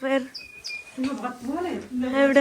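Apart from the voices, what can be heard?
bird chirping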